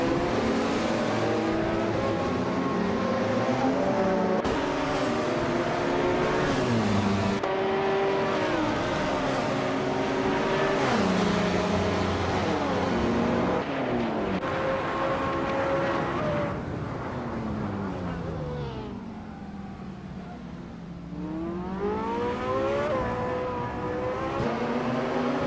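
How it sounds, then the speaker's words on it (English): A 2005 Aston Martin DBR9 race car engine roars continuously, its pitch climbing through gears and dropping on downshifts, loud and close throughout with no talk. "Death Factor is driving a 2005 Aston Martin DB RS9"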